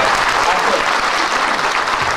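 Ceremony audience in Bușteni applauding honorary citizens, a dense, even wash of many hands clapping throughout, close and loud, with no breaks.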